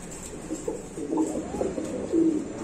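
A male Lahori pigeon coos close by, giving several soft, low, throaty rolling calls in quick succession over a faint background hum.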